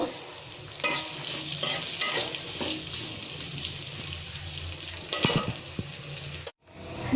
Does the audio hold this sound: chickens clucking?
no